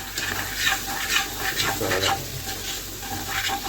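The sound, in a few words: stirring okra and carrot curry in a pan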